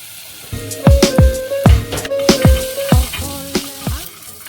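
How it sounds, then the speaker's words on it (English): Cumin seeds, ginger and garlic hit a hot pan and sizzle in sharp, repeated crackling bursts, close and fairly loud, with no talking. "we'll add the cumin seed first. And to the cumin seed, some ginger and garlic."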